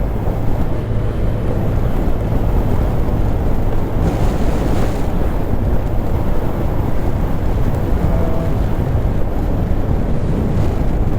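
Continuous loud cold wind from Typhoon Pepito buffeting the microphone on a road trip, a dense rumbling roar throughout with no breaks and no voices.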